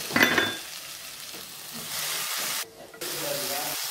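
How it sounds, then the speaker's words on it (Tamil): Tomato and onion sauté in a pan with green chilli for pepper chicken masala, a steady close sizzle with stirring scrapes and a brief dip in the frying noise partway through. "தக்காளி வெங்காயம் இது ரெண்டுமே பச்சை வாசம் போகிற அளவுக்கு இதை நல்லா வதக்கிக்கோங்க"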